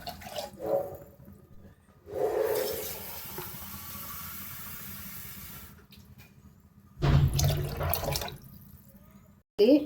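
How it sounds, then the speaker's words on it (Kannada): Water is poured into a cooking pot for a biryani-style rice dish, a glass at a time. Two separate splashing pours, one longer and softer, then a louder, fuller one, with quiet gaps between. "ನೀರು ಹಾಕೋತಾ ಇದ್ದೀನಿ."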